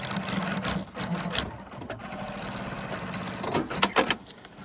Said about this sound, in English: So 2 inches, that's where I'm going to put a line of stitching in.